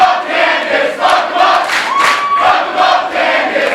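A wrestling crowd at an intergender indoor match roars and chants in support, a loud dense wall of voices swelling and dipping, with whistles and shouts cutting through.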